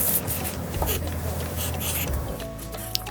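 A child writes an equation down by hand, giving soft scratchy pencil strokes on paper that come in short bursts, close and faint, with a small tap near the end.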